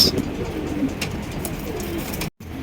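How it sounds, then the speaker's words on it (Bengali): A pair of black fancy Beauty pigeons cooing softly nearby, low repeated murmuring coos over a faint background hum, no talking. "দর্শক এখানে দেখতে পাচ্ছেন চমৎকার এক জোড়া বিউটি কবুতর ব্ল্যাক বিউটি"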